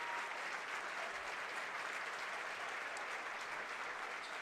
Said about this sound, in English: He's getting a nice ovation from the crowd, so we love to see.